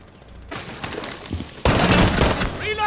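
Rapid automatic gunfire in the video game Rainbow Six Siege, a quieter burst followed by a sudden loud, sustained fusillade up close, with players talking over it.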